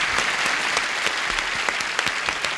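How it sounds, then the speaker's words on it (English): Game show studio audience applauding, a dense, steady wash of clapping at full volume from start to finish with no pauses. "Applause, applause, applause."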